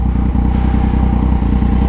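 A steady close drone from a Yamaha MT-09 motorcycle engine cruising on the road, deep pulsing exhaust beats holding an even, loud level for the brief stretch.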